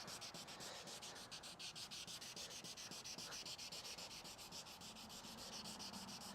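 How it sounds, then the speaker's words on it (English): Sandpaper rubs back and forth over a Chevy Colorado plastic headlight lens in a fast, even rhythm of close, steady scratchy strokes with no talking. "I'll flip my sandpaper around a couple of times just to use it evenly"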